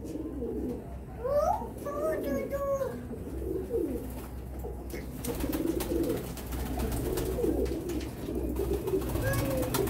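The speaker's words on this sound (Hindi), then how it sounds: "बहुत नायाब तरीन कबूतर है" Rare fancy pigeons coo in a loft, a string of soft rolling calls near the start with more cooing continuing underneath a steady low background hum.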